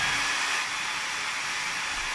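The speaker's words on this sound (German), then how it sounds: "Probiert das mal aus mit einem Tischtennisball und einem Föhn, ob der Ball auch bei euch in diesem Luftstrom bleibt" A hair dryer blows a strong stream of air at close range, a loud, steady broadband hiss that holds unbroken throughout with no voices.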